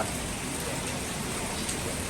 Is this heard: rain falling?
yes